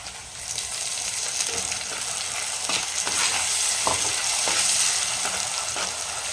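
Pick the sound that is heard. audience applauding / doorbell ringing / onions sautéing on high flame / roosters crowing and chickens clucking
onions sautéing on high flame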